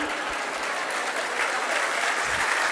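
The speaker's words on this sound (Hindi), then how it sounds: "अब ये सबसे ज्यादा तालियां बज गई।" Audience applause during a Jain sermon, a continuous burst of many hands clapping at moderate distance, steady throughout with no speech over it.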